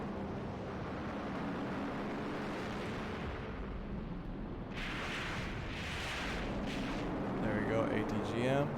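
Distant booms and rumbling gunfire roll through a large-scale combined-arms war video game battle, with heavier blasts bursting in midway and near the end over a constant low din.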